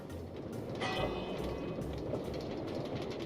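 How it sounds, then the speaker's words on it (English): A train ride in a Minecraft-style world, with a steady rolling rumble and faint rhythmic clatter, plus a brief metallic ring midway, all fairly quiet and continuous. "So let's just ride our train for the first time."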